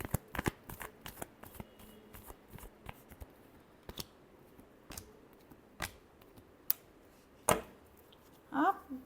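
A deck of tarot cards being shuffled by hand, heard as scattered, sharp riffles and taps spread unevenly over several seconds, close and fairly quiet, with a louder flurry of card sounds toward the end.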